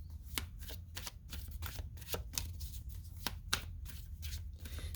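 Decks of oracle cards being handled and shuffled, a run of crisp, irregular riffling snaps and slaps at close range over a steady low room hum, with no talking.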